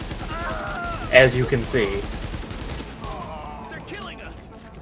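Modded AK rifle gunfire in Tom Clancy's The Division, a short burst of loud close shots under someone talking, followed by his continuing speech.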